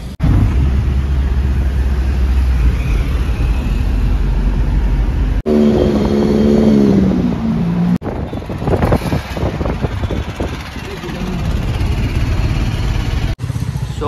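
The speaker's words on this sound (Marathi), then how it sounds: "गाईज मस्तपैकी आता कार आली आमची" A car rolls up and drives off with a continuous loud engine and road roar, heavy with wind buffeting on the microphone. The sound runs through several abrupt cuts.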